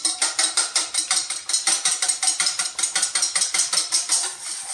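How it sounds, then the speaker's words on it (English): A whisk beats an egg in a bowl with fast, regular metallic clicks and scrapes, close and loud, roughly four strokes per second and continuing without pause. "Okay, and then we whisk that up."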